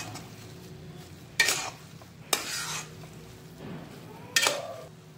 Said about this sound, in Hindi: अब हम इसमें थोड़े से भिगे हुए काजू डालेंगे और अच्छे से मिला लेंगे